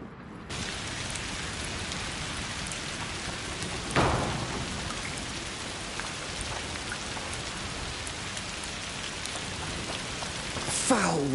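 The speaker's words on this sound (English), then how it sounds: "Foul rain." Steady rain pours in the video game A Plague Tale: Requiem, at the edge of a forest beyond a butcher's district, a dense constant hiss with a couple of louder gusts or distant rumbles and no speech.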